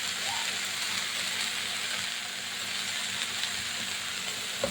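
Gourd leaf paste with garlic, salt and turmeric cooking in a pan, a faint continuous sizzle and hiss with a light scrape near the end.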